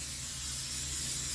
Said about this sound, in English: parchment paper, and we're going to spray it.